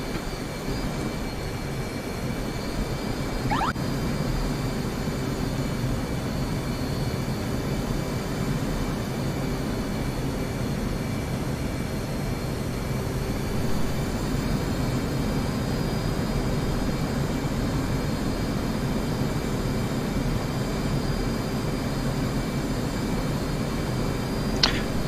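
Steady jet roar from an aircraft on a landing approach in the DCS World flight simulator, a constant broadband engine drone that holds at the same level with a faint whine above it and no speech.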